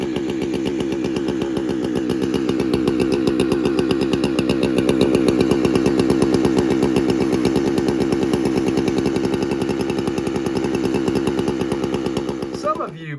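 Husky 372XP chainsaw fitted with a 51.4mm cylinder, running steadily after a rebuild, a fast, buzzing two-stroke drone held for several seconds at a high idle that won't drop, then cutting off at the end.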